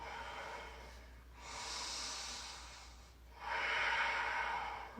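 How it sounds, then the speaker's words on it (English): Slow, deep breaths during a yoga class, two long airy exhales a couple of seconds apart, close and soft, with no talking. "Big full breaths. Let's take 2 of them."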